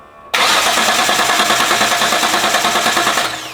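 A Datsun 280Z engine that has sat unused for five years cranks and fires, the loud broadband roar beginning abruptly and then running steadily near the microphone with a rapid pulsing rhythm, tapering slightly at the end.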